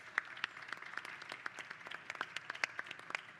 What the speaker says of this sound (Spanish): pedir un aplauso para ellos